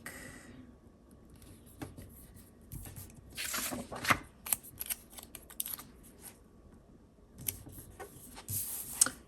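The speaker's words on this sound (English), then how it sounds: "I'm just going to cut this this one in half" Scissors cut through a sticker sheet, a series of crisp snips and paper rustles up close, bunched in two bursts with quiet handling between.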